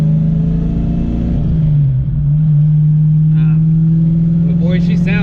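Engine of a Ford Foxbody Mustang fitted with a Ram HDX clutch, running steadily loud and close with a deep continuous drone that dips briefly and recovers, with a few faint higher sounds near the end.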